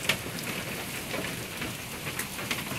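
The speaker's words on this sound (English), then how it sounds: "There's so much fucking hail." Heavy hail falls during a violent hailstorm in New Hampshire, a dense, continuous patter of ice striking surfaces with a few sharper impacts standing out, and no voices.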